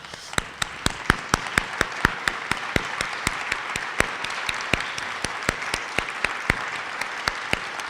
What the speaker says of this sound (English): can I just ask for all the nominees for every award to stand so we can applaud your accomplishments and achievements